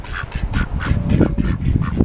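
Several ducks on an urban farm quack in a rapid, repeated series of nasal calls, fairly close and steady, with a low rumble of background noise underneath.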